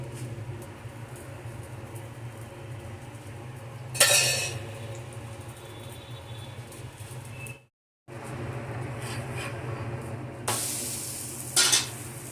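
Besan cheela frying in oil on a pan, a soft steady sizzle close by, broken by a couple of sharp scraping clinks of a spatula and a brief gap of silence.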